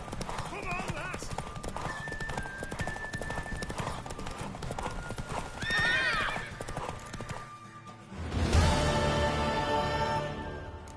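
Rapid hoofbeats of a galloping horse with a whinny in the video game The Witcher 3: Wild Hunt, set against music and game sounds, then a louder swell near the end.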